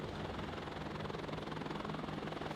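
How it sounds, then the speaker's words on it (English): Helicopter in the WARNO video game, a steady rotor and engine drone that holds even and continuous throughout at a moderate, fairly distant level. "It has helicopter using its Hellfires here,"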